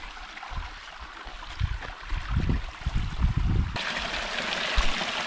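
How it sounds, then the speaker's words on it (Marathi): Water flows in a small stream near fields at Naringre, Devgad, a faint, steady trickle with soft gurgles and splashes, heard close and without talk. "बघा पाणी"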